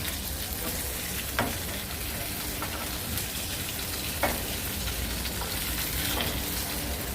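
Bangda mackerel fries in a pan until crispy, giving a soft, steady crackle like light rain, with occasional sharper pops standing out above the faint, even hiss.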